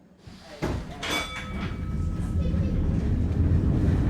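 A heritage Dockline tram in Auckland starts rolling after a clunk and a ding, its motor and wheels building to a steady, growing rumble close by.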